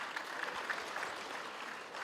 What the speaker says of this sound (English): Can we give that leadership a round of applause?